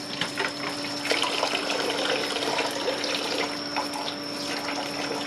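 Tap water runs steadily into a sink as pork offal is rinsed for a stir-fry, a continuous close splashing stream with no talking.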